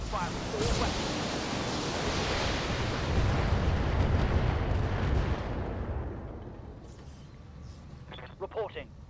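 A mech in the Battletech game fires all its weapons in one massive volley, a dense roaring blast of explosions and gunfire that holds for several seconds and then fades, with brief synthetic blips near the end.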